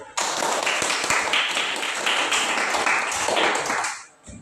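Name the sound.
applause, clapping hands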